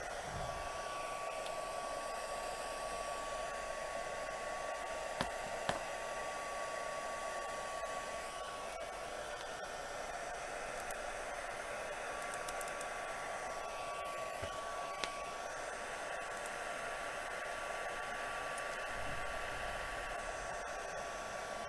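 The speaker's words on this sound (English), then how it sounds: "So I'm going to heat emboss this." A heat embossing tool blows hot air in a steady, continuous whir with a faint whine, running alone and unbroken for the whole stretch while gold, copper or silver embossing powder is melted on a floral gift box.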